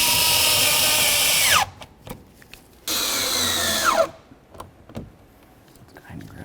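A power drill runs in two sustained, loud bursts driving mounting bolts for a side mirror on a 2006-12 Ford Fusion, each winding down as the bolt seats, followed by light tool clicks and handling noises.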